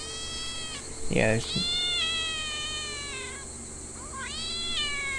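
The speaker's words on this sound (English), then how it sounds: "Oh, the cat." A cat meows in the horror video game Shadow Corridor, with drawn-out, wavering meows near the start and again toward the end, and a player briefly speaking in between.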